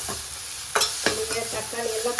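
Tomatoes sizzle as they are sautéed in a pan with soaked tamarind for mint chutney, steady frying under a few sharp spatula scrapes and knocks against the pan.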